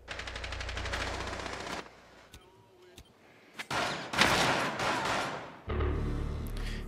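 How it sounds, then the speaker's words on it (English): Gunfire rings out in the video game Rainbow Six Siege: a rapid automatic burst, a few sharp separate shots, then loud heavy blasts like shotgun fire, with louder game noise in between. "Good shotgun from Oryx there"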